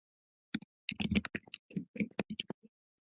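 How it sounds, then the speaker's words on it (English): Quick bursts of keyboard tapping, irregular clicks clustered over about two seconds, fairly close and isolated against silence. "Sorry, now you can hear the tapping"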